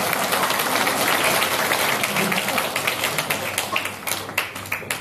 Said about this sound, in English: A big round of applause for my sister.